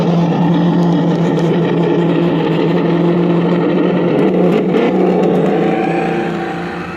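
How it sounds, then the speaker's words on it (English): A Traxxas Slash RC car drones with a steady, loud, high-pitched electric motor whine, held close and continuous before easing off slightly at the end. "we're gonna go ahead and continue racing a couple cars"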